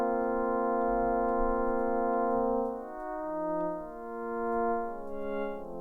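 Sustained FM synthesizer tone built from sine-wave wavetables holds a rich, stacked harmonic chord, then shifts and wobbles as the modulation changes, clean and steady with no voices.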